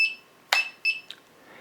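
A drone flight controller gives a few short electronic beeps on arming, two or three tones in quick succession, fairly faint with quiet gaps between.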